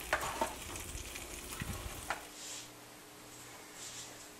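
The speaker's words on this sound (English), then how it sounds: "Now let's stir it all up." Tomato puree being stirred into meatball sauce in a pan, a few wet scraping and stirring strokes over gentle sizzling that fades to a quiet simmer.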